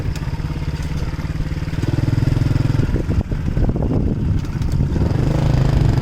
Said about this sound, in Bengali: আমাদের মোটর সাইকেল নিয়ে যাওয়াই খুব কঠিন হয়ে গেছে।